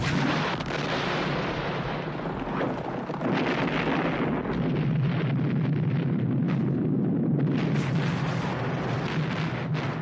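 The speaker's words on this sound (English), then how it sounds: "I'll blow up the benzene." A sustained, roaring blast as benzene fuel explodes in a desert war film, loud and continuous for about ten seconds with rumbling low end and crackling debris, no speech.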